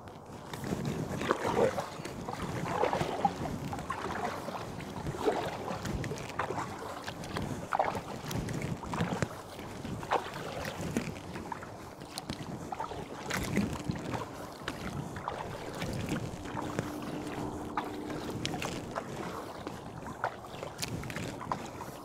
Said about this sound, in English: So I'm gonna start paddling. And we're using the NuCanoe 260 to 280 adjustable paddle.